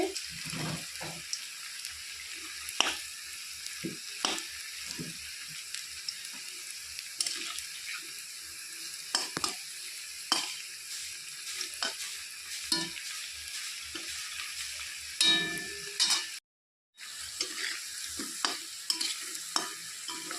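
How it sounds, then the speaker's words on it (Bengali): Cauliflower pakoras deep frying in oil, a faint steady bubbling sizzle with intermittent clicks and clatters of turning the fritters, brief gap near the end. "ভালো করে একটু ভেজে নিচ্ছি লাল লাল করে।"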